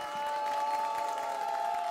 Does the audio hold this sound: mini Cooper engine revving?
no